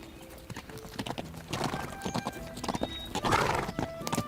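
Hooves of Fergana horses clip-clop quickly on hard ground, several animals close together in a busy, uneven rhythm, with a faint whinny and no speech.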